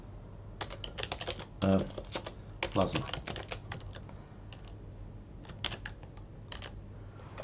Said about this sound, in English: this is just all the keyboard shortcuts